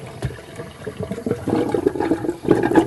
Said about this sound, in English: And then run some hot water in.